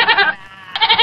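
A goat bleats loudly and close, two wavering cries separated by a short pause, on a comedy stage show.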